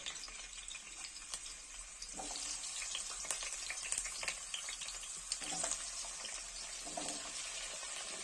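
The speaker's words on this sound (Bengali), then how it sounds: "তেলটা গরম হলে তেলের মধ্যে দিয়ে দিচ্ছি কেটে রাখা আলুর টুকরোগুলো" Cut potato pieces fry in hot mustard oil in a wok, giving a steady, close sizzle and crackle with a few soft scrapes and bubbling spits, and no voices.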